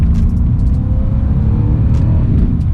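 A Mercedes C63 AMG coupe drives on wet roads, its engine giving a loud, steady low rumble from inside the cabin, with a faint rising whine and brief hiss bursts like spray from the wet surface.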